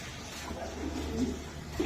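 Racing pigeons coo softly in a short, faint burst of low murmuring calls over a quiet background hum.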